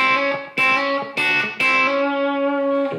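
Country guitar lick in A played with chicken picking: a few sharp, snapped attacks at the start, followed by a sustained ringing note that holds to the end, heard alone and up close with no talk.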